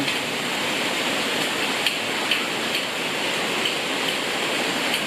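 Steady rain pours down at a noodle shop in Khon Kaen, Thailand, in a dense, even hiss, with a few louder drops tapping now and then.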